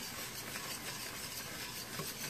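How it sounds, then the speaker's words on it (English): A whisk scrapes steadily through a sauce for asparagus gratin thinned with asparagus broth, making a continuous close, soft swishing and scraping with no pauses. "And continue to whisk"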